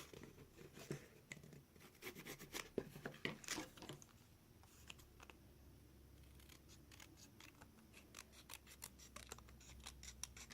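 Scissors snip through scrapbook paper while a gift box is being covered. Crisp, close cuts come in quick irregular runs, quiet and alone with no talking.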